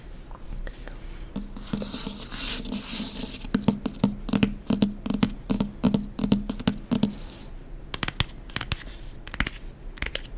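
Fingertips trace and scratch across a page as an ASMR trigger, giving close, soft scraping strokes with a run of rhythmic taps in the middle and quiet whispering around them.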